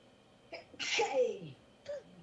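One sharp human sneeze bursts out after a short intake of breath, close and fairly loud, followed by a brief vocal sound.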